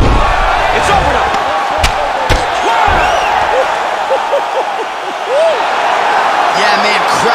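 A virtual arena crowd in the UFC 4 video game roars after a knockout. A loud, sustained wall of cheering and shouting runs throughout, and a few sharp slaps or thumps stand out on top.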